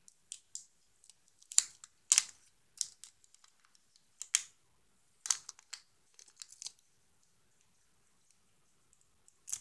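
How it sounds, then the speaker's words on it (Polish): A yellow pack of Turbo chewing gum is opened, giving quiet, scattered bursts of paper and wrapper crinkling and tearing with pauses between, close up and without talk. "Otwieramy żółtą paczkę."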